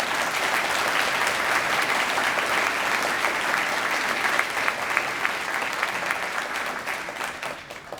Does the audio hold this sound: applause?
yes